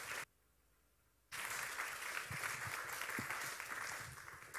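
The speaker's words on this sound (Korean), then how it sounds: "큰 박수로 1강을 시작하겠습니다." Audience applause at a Korean church lecture series opening, a steady broadband clatter of many hands following a brief quiet moment, sustained at moderate level for several seconds.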